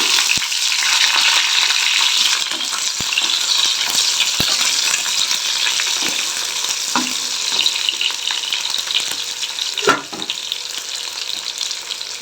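Onions sizzle loudly in a hot pan of oil for a masala drumstick gravy, a continuous close frying hiss broken by occasional clicks and scrapes from stirring. No one speaks.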